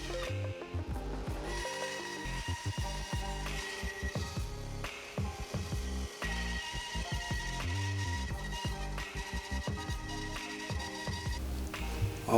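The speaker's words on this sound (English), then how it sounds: "then cut them out on the bandsaw, making sure I stayed outside the marked lines" Bandsaw cutting walnut chair parts in a woodshop, a continuous whirring hum with steady rasping blade noise and frequent brief stops and restarts as pieces are fed through, close and fairly loud.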